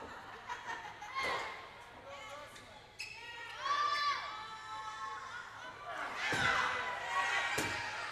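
A heavy folding table is set up at ringside during a live wrestling event, giving several loud thuds and slams spread across the moment, mixed with crowd noise and some voices.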